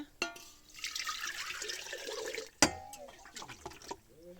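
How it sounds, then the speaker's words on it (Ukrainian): Water pours into a glass jar in a steady broadband rush for a couple of seconds, then a sharp clink and some splashing and small clatters follow, fairly close. "наливаю води"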